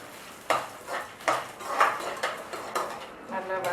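Peanuts and roasted gram are stirred in a pan with a metal spoon, giving repeated scraping clinks and rattling scrapes at a steady unhurried pace, close and moderately loud.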